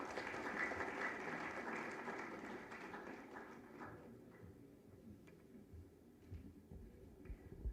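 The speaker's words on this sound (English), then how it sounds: "Please, a big round of applause for ma'am," An audience applauds at a women's program at ICFAI: dense, steady clapping that is loud at first, then gradually thins and softens over several seconds.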